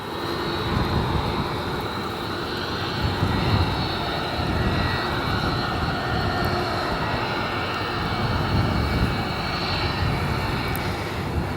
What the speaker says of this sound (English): That Iceland there, the 100 Years Independence livery, arriving into O'Hare from Reykjavik after a 6-hour and 11-minute flight time.